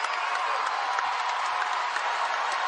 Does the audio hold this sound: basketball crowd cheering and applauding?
yes